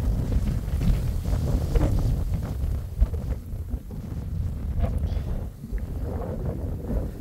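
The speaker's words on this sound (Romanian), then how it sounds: "Îmi ia telefonul din mână vântul." Strong gusts buffet a phone microphone outdoors on a hilly road in Dobrogea, a continuous loud low rumble with sharp thumps and surges throughout, no voice heard.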